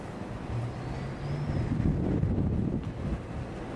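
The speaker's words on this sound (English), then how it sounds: "A little windy." Wind blows on a hotel balcony overlooking an airport on an overcast day, a faint low rumble buffeting the microphone with distant traffic-like hum underneath.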